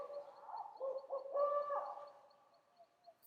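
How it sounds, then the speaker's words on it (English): An owl's shriek in a staged Macbeth scene, heard as wavering, hooting cries rising and falling over a few seconds, fairly close and alone, fading out at the end. "It was the owl that shrieked"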